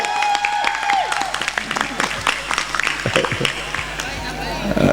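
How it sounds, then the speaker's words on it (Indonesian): Audience applause at an Islamic religious gathering, loud crowd clapping close by with murmuring voices and babble mixed in throughout. "tepuk tangan untuk"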